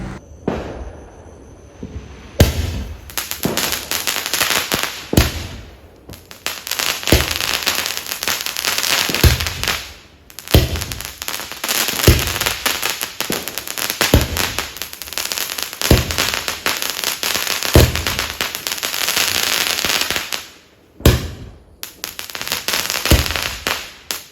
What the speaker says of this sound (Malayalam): കുറച്ച് പടക്കം കൂടി പൊട്ടിക്കാൻ ബാക്കിയുണ്ട്